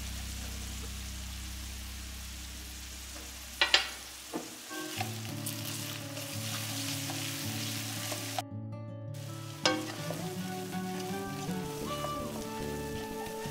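Ginger paste and a little ground garam masala frying in a pan for a Bengali fish-head and rice dish, a steady close sizzle with a few sharp clinks of stirring and no talk.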